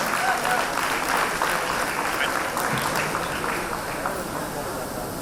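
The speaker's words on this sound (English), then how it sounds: "Big round of applause to Saveetha." A college event audience bursts into loud, sustained applause, a thick wash of clapping that stays strong throughout with a faint crowd murmur and voices beneath it.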